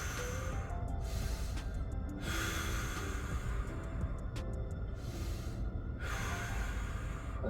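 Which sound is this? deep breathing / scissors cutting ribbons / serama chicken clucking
deep breathing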